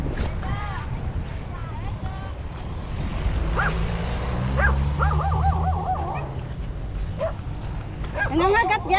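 A dog barks repeatedly on a countryside walk, sharp yips and whimpering barks coming in bursts amid outdoor noise while people talk loudly nearby.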